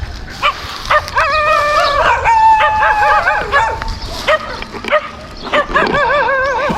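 Multiple dogs bark and yip repeatedly, fairly close and loud, with some higher whining yelps mixed into the rapid, overlapping barking.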